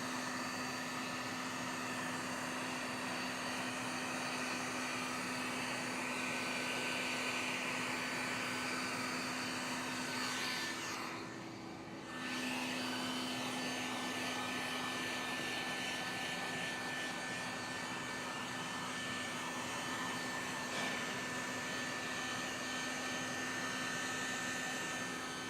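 A heat gun blows steadily close up while shrinking ceramic window tint on a Toyota 4Runner, a continuous airy roar that holds for the whole stretch, dipping briefly once near the middle before resuming at full strength.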